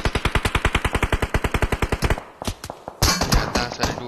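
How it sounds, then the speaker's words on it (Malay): Video game gunfire: a fast automatic burst of about twenty evenly spaced shots, loud and close, then a short pause and a few scattered heavier shots and impacts. "Tembakan"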